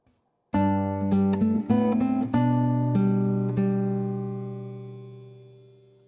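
Guitar notes ring out plucked one after another in 3/4 time, the opening of Bach's Minuet in G: a quick run of clear single tones, then a held note that slowly decays, played alone.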